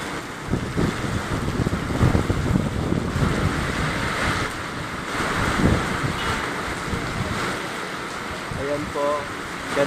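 Strong habagat monsoon wind and rain roar together as a gusty, low rumble that swells and eases, buffeting the microphone throughout.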